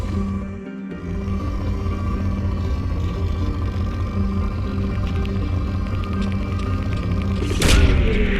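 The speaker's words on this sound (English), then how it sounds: "Launching probe. Probe away." A probe launched from a spaceship in the video game Mass Effect 2, with a low droning hum throughout and a sudden deep whooshing boom near the end.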